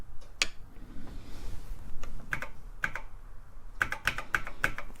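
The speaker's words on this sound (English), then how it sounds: "Should get you up here where you can watch me type it in." Typing on a TRS-80 Model I keyboard: close, sharp clacking keystrokes in irregular bursts, sparse at first and then a quick run of presses near the end, with light background hiss.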